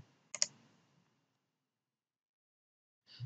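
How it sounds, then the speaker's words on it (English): A computer mouse clicks an OK button in a CAD program with two quick, crisp taps close together, followed by near silence. "And when I've done that, I click OK."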